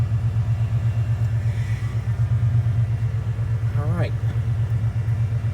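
A 1991 Ford Bronco engine idles steadily at about 1100 RPM, a loud, even low rumble with a regular pulsing beat throughout, while someone speaks briefly over it.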